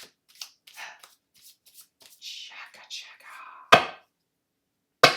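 Tarot cards being shuffled for a Virgo reading, crisp riffling bursts near the mic between quieter soft card handling and whispery rustles, with two sharp, loud shuffles standing out toward the end.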